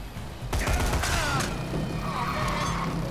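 A loud burst of gunshots in the video game Dead Rising 3 rings out close, followed by a few ringing echoes over a steady, noisy game background.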